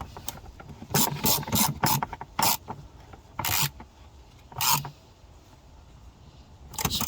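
A ratchet fitted with a 6 mm socket tightens bolts on a BMW E92, giving close, loud bursts of rapid clicking separated by short pauses.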